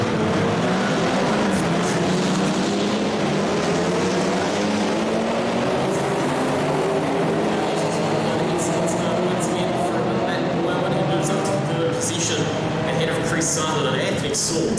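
Racing cars, including a BMW M4, roar away together from a standing race start, the massed engine noise loud and close with rising pitch sweeps as they accelerate, overlaid by a continuous commentator's voice.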